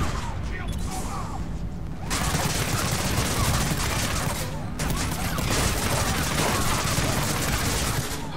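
Sustained automatic turret fire from Mass Effect 3 multiplayer, a dense rattling barrage of rapid shots that briefly lets up around the two-second mark and again near five seconds before resuming loud and continuous.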